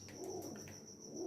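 Baby pigeons around fifteen days old coo softly near the listener: a few faint, brief murmurs over a steady high whine and a low background rumble.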